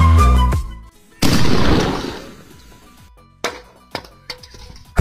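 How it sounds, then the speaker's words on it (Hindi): A firecracker goes off with a single loud, sharp bang whose crackling tail fades over about a second, followed by a few fainter pops and clicks. "कैट ने दूसरा पटाखा भी जला दिया है।"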